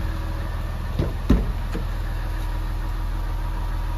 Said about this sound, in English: So right now, as you can hear it, the car is running.